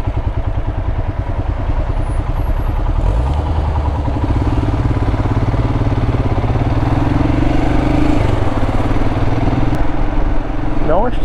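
Royal Enfield Himalayan motorcycle engine thumping steadily while riding a potholed Himalayan road, a loud, close, continuous drone with occasional clatter and slight pitch shifts as the rider works the throttle, and speech over it.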